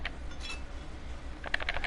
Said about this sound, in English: That clicking you hear is me trying to mash these buttons.